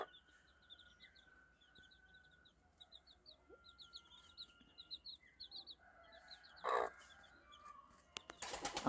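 Chickens cluck softly inside a homemade coop built for raising chicks, repeated short clucks and calls at moderate distance over a quiet background, with a sharper squawk late on and a clatter at the end.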